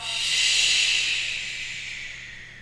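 A single long yoga exhale through the nose or throat, a close, airy hiss that swells quickly and then slowly fades over about two seconds, heard alone.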